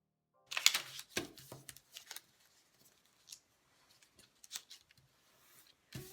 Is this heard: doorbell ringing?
no